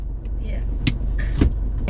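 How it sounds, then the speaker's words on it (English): Handbrake of an Isuzu D-Max X-Terrain pickup pulled up inside the cab, giving two sharp ratcheting clicks close by over a low steady cabin rumble. "And even the handbrake, like listen when I pull it up"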